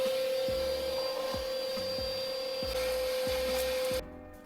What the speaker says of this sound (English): Alright, it's all vacuumed up.